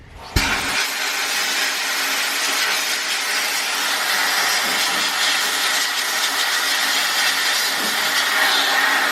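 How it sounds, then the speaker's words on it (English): Rust is blasted off a Porsche 944 part in a sandblaster, producing a loud, continuous broadband hiss that starts abruptly after a brief click and carries on evenly throughout. "I'm gonna go throw it in the sandblaster and get all this rust off of it"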